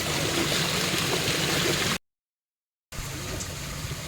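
Water pours and gurgles steadily into plastic bags for packing milkfish fry, broken by a short silent gap before the splashing resumes at a similar level.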